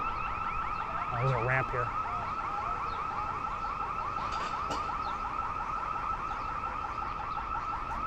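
Loud electronic motion-detector alarm outside a government building near the OEOB, a rapid repeating warble that sounds continuously in the background while a voice speaks briefly.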